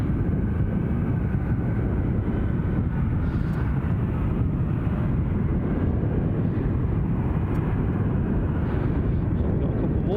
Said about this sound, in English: 737 will be cutting across this view in a jiffy